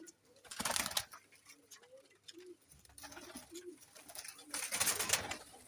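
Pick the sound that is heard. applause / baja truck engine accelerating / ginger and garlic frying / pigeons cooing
pigeons cooing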